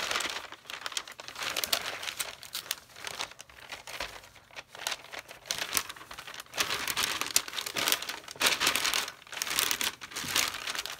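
A bag is rummaged through up close, with continuous crinkling and rustling that comes in irregular bursts and pauses, and no one speaks.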